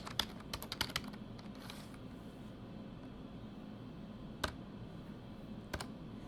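Computer keyboard typing, a brief flurry of faint clicks at the start followed by a couple of isolated key taps, set against a steady low background hum.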